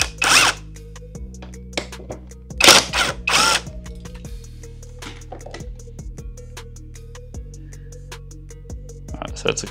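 A power tool removes bolts on a CFMoto 800MT motorcycle. Close, loud whirring bursts come in three main runs early on, with a later burst near the end, and clicks and tonal hum between them.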